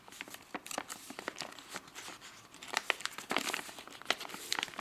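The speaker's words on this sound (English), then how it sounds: "Now I will fold this part. I will fold from here. Fold it inside." Paper is folded and creased for an origami turtle, producing close, continuous crinkling and rustling with sharp little crackles that swell louder toward the end, with no speech.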